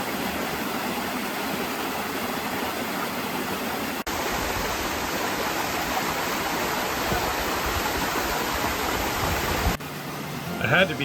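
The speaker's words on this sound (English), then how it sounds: "The running water was quite mesmerizing, and it really makes its own soundtrack," Running water from a woodland stream on a trail near Rangeley, Maine, a steady broadband rush that holds close and continuous for the whole stretch, with a brief dip near the end.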